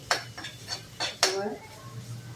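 Garlic and chili stirred in a pan for chili vada, with about five distinct metallic scrapes and clinks of a utensil against the pan, close up over a low background hum.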